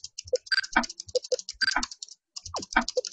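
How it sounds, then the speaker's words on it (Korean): A computer keyboard is typed on in the Japanese video game 身代わり少女, with quick, steady clicking keystrokes in a close, dry burst and a brief pause before it resumes. "다다다에게 타자 치는 소리가 들린다."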